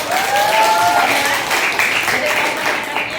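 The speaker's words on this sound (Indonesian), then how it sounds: "Oke, tepuk tangan dong." Students in a chemistry classroom applaud after a presentation, a dense burst of clapping filling the room for a few seconds, with voices mixed in.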